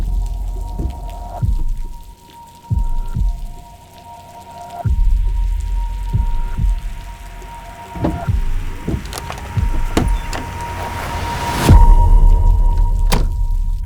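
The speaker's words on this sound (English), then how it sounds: "We got water dripping, it's raining actually" Rain falls in a grimy outdoor alleyway with water dripping, heard as a steady wash of rainfall with irregular close, heavy drops and thuds landing at varied intervals, growing denser and louder toward the end.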